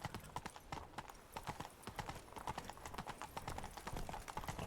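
Hooves of a horse in a video game clip-clop rapidly in a steady galloping rhythm, close and continuous throughout with no talk.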